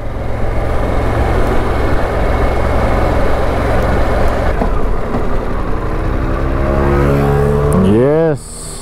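A Harley-Davidson Pan America 1250 motorcycle ridden in Road mode, with a steady engine drone under rushing wind, then a rising whine near the end as the revs climb before a drop.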